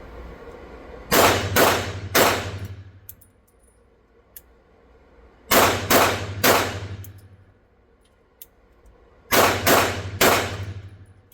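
Three rapid groups of sharp shots from a Springfield Emissary pistol, three shots each, spaced a few seconds apart, loud and close, with a low hum between bursts.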